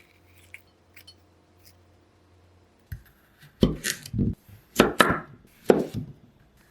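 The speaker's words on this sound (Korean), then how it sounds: "단호박은 반으로 자른 다음 속 안의 씨를 모두 빼주세요." A knife chops through a firm kabocha squash, then seeds are scraped out, giving several loud, close thuds and crunchy scrapes after a near-silent start with a few faint taps.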